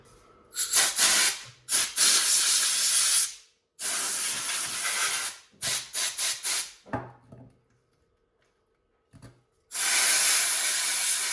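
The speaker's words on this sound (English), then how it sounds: "I'm gonna use some canned compressed air" Several bursts of hissing spray from a can of compressed air into a WLtoys RC car transmission, a few long and some short and choppy, separated by silent gaps, with a final sustained blast at the end.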